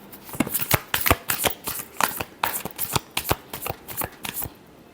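Tarot cards being shuffled by hand, a rapid series of crisp riffling flicks and slaps in an irregular rhythm, close and fairly quiet, with no talking.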